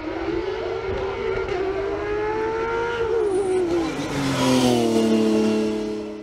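A Porsche 991 Cup race car climbs a hill course in southern France, its flat-six engine wailing loud and close as it revs up through the gears, pitch rising then dropping at a shift before climbing again.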